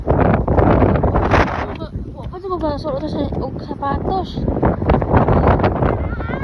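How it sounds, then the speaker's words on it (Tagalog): Strong wind buffets the microphone with a steady, rough low roar while people talk over it throughout. "Super hangin."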